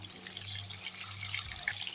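Water running from a tap into a sink where churned butter is rinsed in ice-cold water, a steady close splashing and trickling wash that continues for the whole two seconds with no talk.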